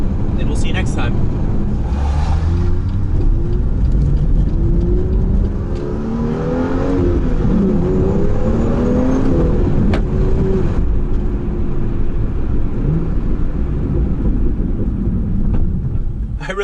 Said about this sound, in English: I really hope you're able to hear those burbles when the downshifts happen.